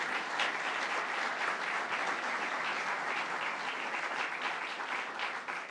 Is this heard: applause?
yes